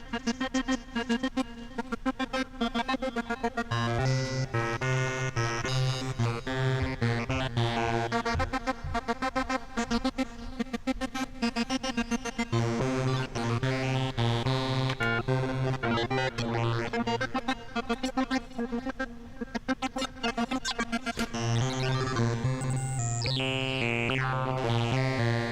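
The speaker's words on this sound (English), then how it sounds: "we're gonna explore the wavetables just with these knobs." Synthesthesia synthesizer wavetables swept by hand with knobs, a dense, continuously morphing tone with pulsing rhythmic patterns and a recurring low drone, playing alone at a steady moderate level.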